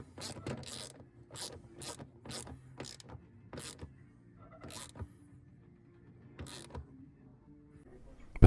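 A screw on a fuel filter bowl assembly is tightened with a ratcheting tool, giving a series of short, sharp clicking bursts at irregular intervals with quiet gaps between them, close and fairly soft.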